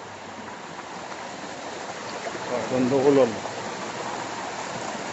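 A cold, clear mountain stream flows with a steady broadband rushing close by, while someone talks briefly over the water.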